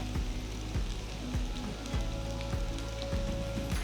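Garlic fries on low flame in a pan with masala-coated arbi pieces, giving a steady, soft, even sizzle with faint low pops throughout and no talking.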